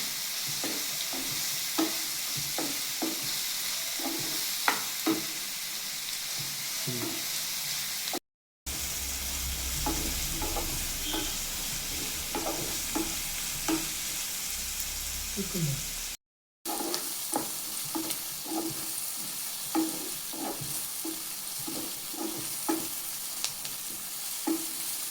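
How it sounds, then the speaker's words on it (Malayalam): Onions and curry leaves sautéing in a pan for an egg curry, a steady sizzle broken by repeated scraping stirs, with two short gaps and a louder, steamier stretch in the middle. "എന്നിട്ട് നന്നായിട്ട് വഴറ്റാം"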